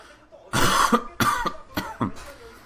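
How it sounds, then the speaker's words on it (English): Several harsh coughs into a microphone during live StarCraft game commentary, about four bursts spaced roughly half a second apart, close and loud against a quiet background. "Apologize for coughing so much into the microphone."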